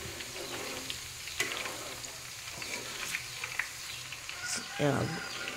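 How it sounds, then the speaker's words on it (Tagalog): Half a kilo of uyap fries submerged in plenty of cooking oil, giving a steady low crackling sizzle with a few sharp pops and faint background sounds. "So lunurin natin siya sa mantika para hindi siya madaling masira."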